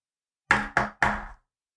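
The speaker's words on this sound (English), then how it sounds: "That's the sound of Patrick Mahomes banging his helmet" Three hard knocks in quick succession, Patrick Mahomes banging his football helmet against metal bleachers, close and resonant, then silence.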